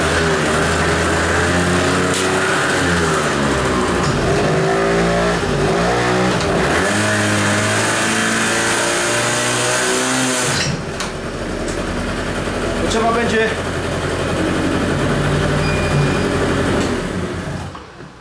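A Kymco Vitality scooter engine revs hard in repeated loud surges, then settles into a rough, steady idle close by. A brief voice is heard near the end.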